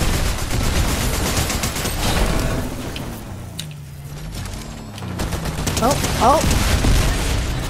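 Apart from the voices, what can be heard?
gunfire shots in the video game Fortnite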